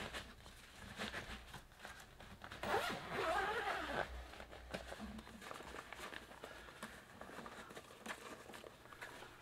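A zipper is pulled along a soft acoustic guitar gig bag that came with a Glarry GT501 guitar, giving faint, close rasping zips mixed with handling rustles and a few soft knocks, no talking.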